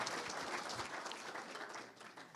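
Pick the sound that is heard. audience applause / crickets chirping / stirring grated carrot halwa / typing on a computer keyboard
audience applause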